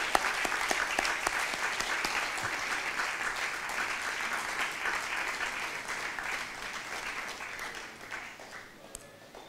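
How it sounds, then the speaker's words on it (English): Sustained applause from an evening awards audience honouring prize winners, dense steady clapping that fades slightly toward the end. "Can we have a big round of applause, ladies and gentlemen, for all of our winners this evening?"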